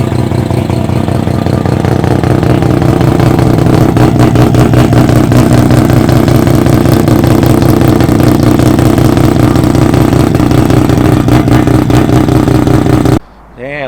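A loud car engine with individual throttle bodies revs repeatedly toward 9,000 RPM with a raw, rasping intake roar, rising and falling in pitch close by, then cuts off abruptly at the end.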